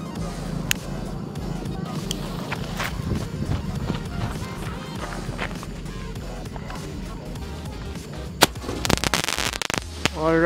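A single-shot firecracker fired outdoors at a 4th of July celebration, with sharp bursts and crackling near the end over steady background noise and chatter.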